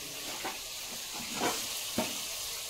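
Jaggery goes into a hot pan of kul (jujube) pickle, giving a steady close-up sizzle with a few soft stirring scrapes.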